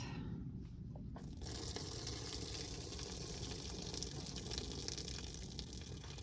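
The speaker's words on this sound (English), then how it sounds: "Now I need to strain the pasta." Cooked pasta is poured into a strainer at a campsite, giving a sudden loud gush and splash of draining water that starts after a quieter moment and continues as a steady, close rush.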